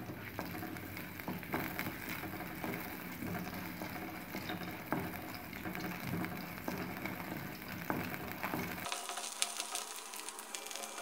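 Pirandai (adamant creeper) frying in sesame oil in a kadai gives a steady, dense crackling sizzle that runs without pause, with a sudden change in tone near the end and no voices.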